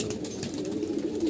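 A racing pigeon coos softly and continuously in a low, steady murmur, close by with faint background noise.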